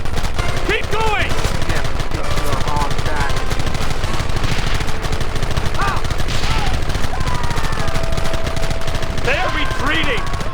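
Rapid gunfire from a Red Dead Redemption shootout crackles steadily through the whole stretch, with shouted voices breaking in over the loud, dense shooting.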